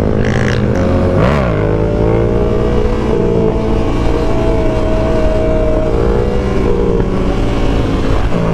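A Yamaha R7 motorcycle engine revving hard while being ridden, a loud, close, steady roar with a rising pitch sweep early on, then sustained high-revving drone over road and wind noise.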